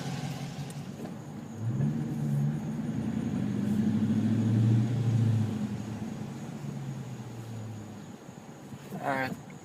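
A 2013 Dodge Challenger R/T engine while driving, a low, fairly quiet rumble that swells as the car pulls away and builds gradually, then eases off, heard from inside with a brief chirp near the end.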